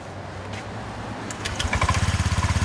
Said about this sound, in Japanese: エンジンかけようか